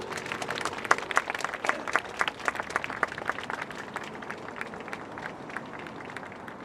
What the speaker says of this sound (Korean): 박수로 환대하겠습니다.